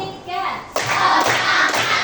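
Primary school children in a classroom at SD Negeri 2 Dorang clap together in a rhythmic chant. A brief young voice comes first, then three sharp, evenly spaced group claps ring out close and loud.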